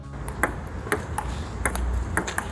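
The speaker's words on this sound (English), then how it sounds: "we went to the ping pong table and we did some tests" Light, hollow clicks of a ping pong ball rally back and forth at a steady pace, heard at moderate distance over a noisy room background.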